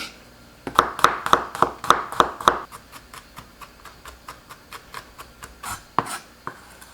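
A knife chops garlic on a cutting board for Korean fatsia shoot kimchi, about ten loud rhythmic close knocks in a row followed by quieter, lighter taps.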